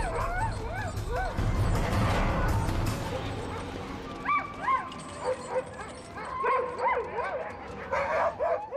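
A pack of dogs barks, yips and whimpers at an approaching polar bear on the ice, excited overlapping calls rising and falling over several seconds, with a narrator's voice speaking alongside.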